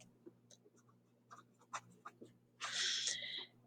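Marker or chalk writing on a board during a math lesson on graphing quadratic functions, with short scratchy strokes followed by a longer, louder squeaky stroke, quiet and close.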